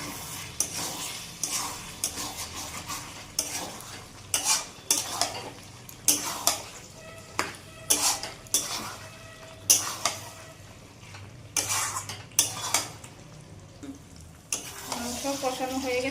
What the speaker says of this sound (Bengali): আবার একটু নাড়িয়ে মাংসটা কষিয়ে নেব।